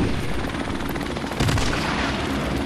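Helicopter in the online multiplayer of Modern Warfare Remastered on PS4, a loud, dense rotor drone with gunfire and bursts mixed in, steady throughout.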